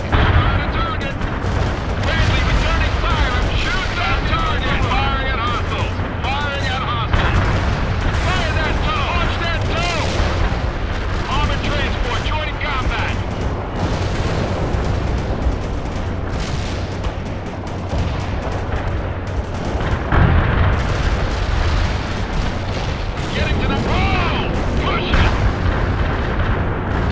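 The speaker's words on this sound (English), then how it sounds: "Bradley returning fire. I'm shooting that target. Firing at hostiles." Bradley fighting vehicle firing in the World in Conflict game, dense booming gunfire and cannon blasts continuing throughout amid battle noise, with radio-style voices talking over it.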